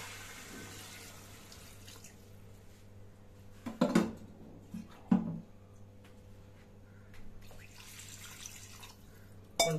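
Quiet splashes of water poured into a pot of chicken gravy, a few short bursts and drips over a faint background hum.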